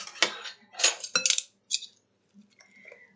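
A few quick bursts of a utensil clinking and scraping against a bowl while ingredients are mixed, separated by short pauses and fading into quiet by the end.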